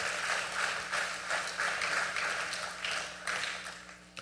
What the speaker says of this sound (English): Please give Honorable Christopher and the committee members a round of applause.